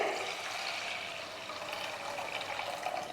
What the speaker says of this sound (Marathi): आता आपल्याला ह्याच्यात पाणी ओतायचं आहे